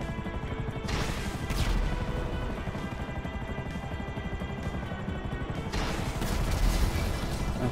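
Rapid gunfire from a helicopter in the video game GTA 5 Online, a dense sustained rattle of shots with crashes mixed in, loud and continuous throughout.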